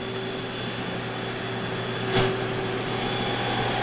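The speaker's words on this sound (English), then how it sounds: "So I'm just going over with the vacuum and picking up" A steady whirring vacuum-motor drone from a Bona Power Scrubber floor cleaning machine runs throughout, with a brief louder swell partway through before settling back.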